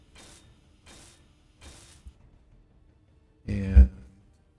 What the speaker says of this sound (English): Let's weld these up.